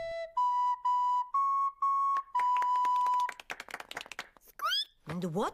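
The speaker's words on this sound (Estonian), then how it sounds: "Mina mängin teile plokkflööti." An elephant character in the Peppa Pig cartoon plays a recorder, a few separate whistly held notes stepping up in pitch, then followed by clapping and cartoon voices.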